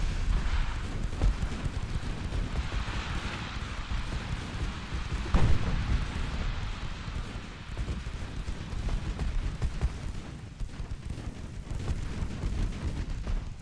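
Heavy naval guns fire from warships in Ultimate Admiral Dreadnoughts during a close rush on an enemy battleship, a low rumbling barrage of deep booms with one sharper, louder blast near the middle over a constant background roar.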